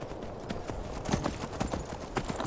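Horse hooves clop across the ground in Skyrim, a steady run of fairly loud, crisp hoofbeats over a dense background rumble, with no talking.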